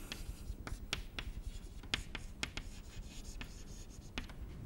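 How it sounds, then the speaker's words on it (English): Chalk or pen strokes scratch steadily across a writing surface during a mathematics lecture, close and distinct, with a series of sharp strokes and taps over continuous rubbing. "So let me write that down here."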